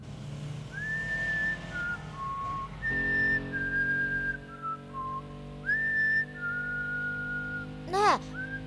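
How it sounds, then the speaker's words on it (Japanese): A man whistles a slow, wandering tune in clear sustained notes with short pauses, over a steady low hum from an anime episode scene. "その口笛なんて歌なの？"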